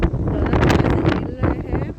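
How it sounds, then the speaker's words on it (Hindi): Strong storm wind gusting hard during a dusty gale, roaring and buffeting close to the microphone as a steady, loud broadband rush with surging peaks throughout. "बहुत तेज हवा चल रही है।"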